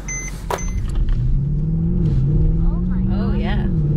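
Mercedes C63 AMG engine starting and rumbling at close range inside the car, a deep steady idle with rising rev swells, while people talk over it.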